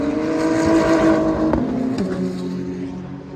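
A BMW M4 GT3 race car engine at Spa-Francorchamps, a loud close roar with shifting revs and a sharp pitch change midway.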